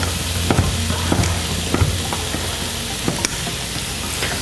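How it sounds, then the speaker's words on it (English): Cubed black pudding and other leftovers fry on full heat, with a loud continuous sizzle broken by sharp clicks and scrapes of stirring in the pan. "I'm going to crank this up to full heat now because I want my crispy bits."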